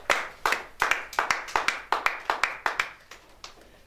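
A church congregation claps in a steady rhythm, about a dozen loud, evenly spaced group claps that fade slightly toward the end.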